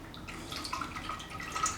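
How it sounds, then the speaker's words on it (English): DOT 4 brake fluid pours from a container into a power bleeder for a BMW E83 X3 brake flush, a soft continuous trickling and splashing of liquid, quiet and steady with no talk. "So we're gonna pour that into the power bleeder."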